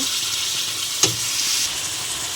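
Chicken pieces fry in a spice paste with turmeric for kasundi chicken, a steady close hiss and sizzle throughout, with one sharp clatter of the pan or spoon near the middle.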